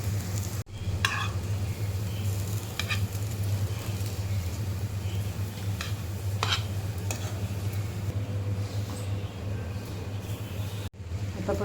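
Colocasia-leaf alu vadi slices fry in oil in a pan, a continuous close sizzle and bubbling with occasional metallic scrapes and clinks as pieces are turned and lifted out.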